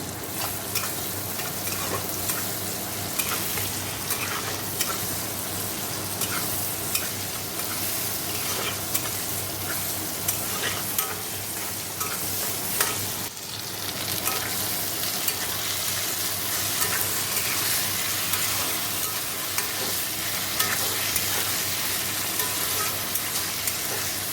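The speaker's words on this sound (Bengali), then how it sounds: "দেখো জিরে ধনে কাশ্মীর লঙ্কা এগুলো দিয়ে দিলাম আর ভালো করে কষে জল দিয়ে দেবো" Cumin, coriander and Kashmiri chilli frying in oil in a pan, a dense, continuous crackling sizzle that stays loud and close throughout, with occasional scraping from stirring.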